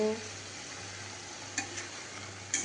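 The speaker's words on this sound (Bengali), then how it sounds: "এই যে নারকেলগুলো মিক্সড হয়ে গেছে এবার ভাজা ভাজা হোক" Grated coconut stirred and fried in a pan for a coconut dish, giving a soft, steady sizzle close by, with a few brief scraping clinks of the spoon against the pan.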